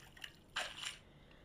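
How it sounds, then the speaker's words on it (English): Water poured into a mixing bowl in a home kitchen while making dough with flour, a short splashy pour of about half a second, fairly faint and close. "Put water in here"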